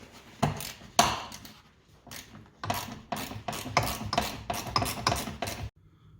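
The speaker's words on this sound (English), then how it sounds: "Undo our bolts." Bolts being undone with a ratchet on a Ford F150 Raptor during a cabin air filter job, heard as several bursts of close, loud clicking ratchet strokes separated by short pauses, with no talking.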